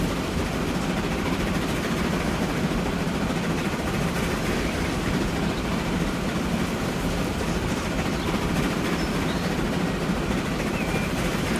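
Freight train rolling along rails in Transport Fever 2, carrying ore or coal, a steady continuous rumble with faint wheel clatter that stays even and unbroken throughout.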